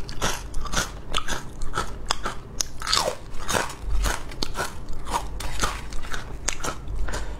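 Close, loud crunching and biting on guoba, a crispy fried rice crust snack, in a rapid irregular series of sharp crackly bites and chews with no talking.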